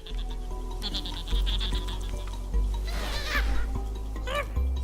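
Creature call in a video game, a bleating, goat-like cry repeated a few times over a steady droning game music bed with low thumping notes.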